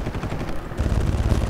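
Rapid bursts of automatic gunfire from Far Cry, loud and dense, with the rattling shots growing heavier and more sustained partway through, no voices.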